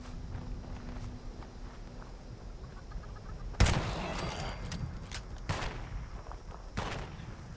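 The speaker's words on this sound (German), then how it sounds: "Da ist ein Huhn." Chicken clucking faintly in Fallout 76, set among game ambience with sharp gunshot bursts and footsteps cutting through at intervals.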